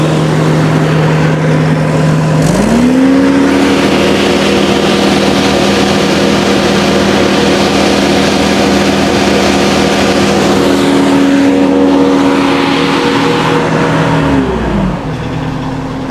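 A Kubota tractor engine runs at raised throttle with a steady, smooth drone that climbs in pitch after a few seconds and holds high before settling at the end, loud and close.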